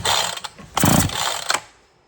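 On a Husqvarna chainsaw, a spark plug is tightened down with a wrench, giving close, loud bursts of clicking ratchet and metallic mechanism noise in a few uneven pulses before the sound fades out.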